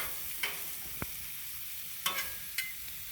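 Sliced bratwurst and butter sauté on a Blackstone flat-top griddle, a faint, steady hiss broken by a few sharp spatula scrapes and taps as the pieces are tossed around.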